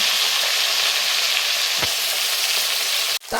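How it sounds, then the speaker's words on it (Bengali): Potatoes fry in oil with a loud, continuous hiss that stays close and steady, with one faint stir near the middle and a brief cut-out just before the end. "আলুগুলো হালকা লাল করে ভেজে তুলে নেব"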